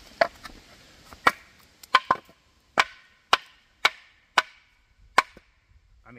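A piece of wood struck lightly for a sound test outdoors on rural land, giving about a dozen sharp hollow knocks at an uneven pace, fairly faint, no talking.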